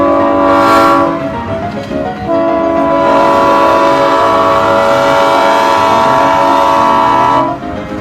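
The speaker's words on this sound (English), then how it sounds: "the train is still required to blow the horn" A train horn blows at a railroad crossing staffed by a flagman, a loud, sustained chord held for most of the clip with a brief dip, over the rumble of the passing train.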